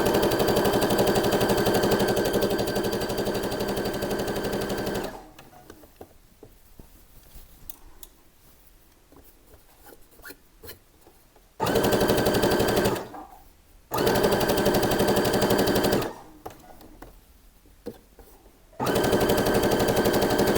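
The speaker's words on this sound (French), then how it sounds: "Je couds à 1 cm." Sewing machine running in three bursts, stitching a flared summer skirt seam 1 cm from the edge: a long steady whir, a pause, then two shorter runs separated by quiet gaps, loud and close.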